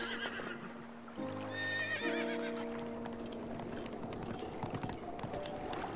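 A horse in the video game The Legend of Zelda: Breath of the Wild lets out one loud, drawn-out whinny, then its hooves clip-clop in a quick, steady rhythm over soft game ambience.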